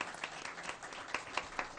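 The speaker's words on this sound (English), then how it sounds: "Let's give them a round of applause." Applause from a school board meeting audience, a steady patter of many hands clapping at moderate distance for a short stretch, with no voices over it.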